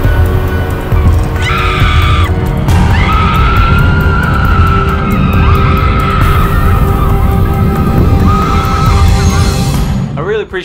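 Boomerang roller coaster at a night-time Halloween event at an amusement park, a loud, continuous roar of the ride with riders screaming throughout and a rising whistle-like tone part way through.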